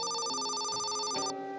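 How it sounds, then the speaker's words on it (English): Hotel front-desk telephone ringing late at night, an electronic warbling ring that sounds steadily and clearly, then cuts off near the end. "the phone rang again."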